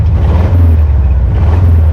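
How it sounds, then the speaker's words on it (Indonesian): A VW Safari concept buggy engine rumbles with a deep, throaty, Harley-like exhaust note, loud and close, holding steady for about two seconds with no talking over it. "gue kalau lewat beneran kayak Harley ini suaranya nih"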